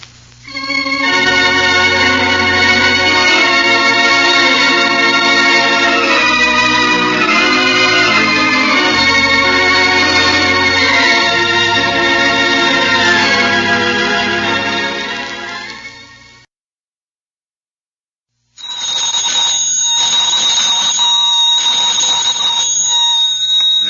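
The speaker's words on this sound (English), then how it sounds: "You're hearing that alarm clock sitting there on the counter that was behind the package." An alarm clock rings loudly on a store counter in an old-time radio comedy, a dense sustained metallic clangor lasting about sixteen seconds, stopping for a few seconds, then ringing again.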